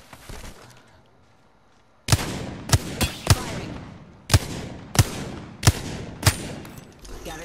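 Video game gunfire, eight sharp, loud shots at uneven intervals after a quiet start, each with a short echoing tail, and faint voices underneath.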